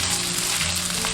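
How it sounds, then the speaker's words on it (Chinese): Minced pork stir-fries in cooking oil in a hot wok, a steady loud sizzle with faint scraping and no talk. "再次倒入一点食用油，下入肉末炒香。"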